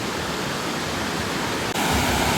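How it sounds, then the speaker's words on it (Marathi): The waterfall beside Dhutpapeshwar temple near Rajapur roars as a dense, unbroken wash of rushing water, loud and close throughout. "तर हा आवाज येतोय या मंदिराच्या बाजूला असलेल्या या धबधब्याचा."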